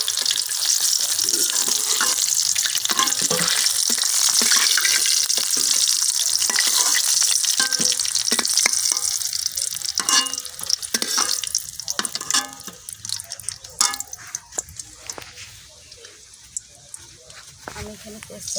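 Bay leaves and whole cumin seeds crackle and sizzle in hot oil in a pan, loud bright frying with scattered pops and stirring clatter that gradually thins out toward the end, with someone talking over it.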